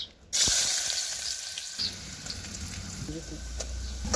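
Chopped onion dropped into hot oil for tempering, in a pot on a wood-fired stove for mutton curry, bursts into a loud sudden sizzle that settles into steady, crackling frying.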